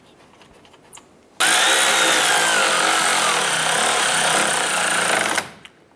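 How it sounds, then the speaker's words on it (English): A power tool snugs down support bolts on a 2011-2018 Ram 1500, one loud continuous whirring burst of about four seconds after a few light clicks, then stopping, with no talk. "let's go ahead and snug those down"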